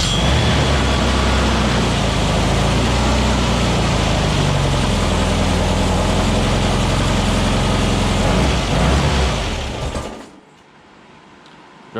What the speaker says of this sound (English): coil on, and this is a cold start.